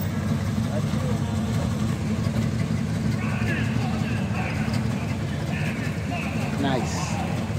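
A Willys hot rod gasser with open headers and a straight axle idles at a car gathering at Eastwood, its deep, steady engine rumble filling the foreground beneath people talking nearby.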